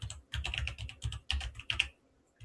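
Rapid clicking keystrokes on a computer keyboard as a file name is entered at a command line, close and crisp in quick bursts with brief pauses.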